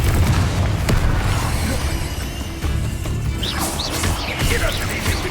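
Confringo blasting spell going off in Hogwarts Legacy, a loud booming explosion with crashing debris, followed by rumbling blasts and sparkling spell effects in a busy game battle.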